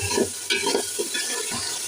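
Loud sizzling of ginger and garlic frying in a hot pan for haleem, with quick scraping stirs, continuous and close.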